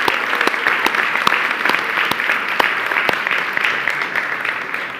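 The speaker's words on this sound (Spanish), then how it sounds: "¿por qué no aplaudimos" A church congregation breaks into sustained applause, a loud, steady mass of clapping with a few sharper individual claps.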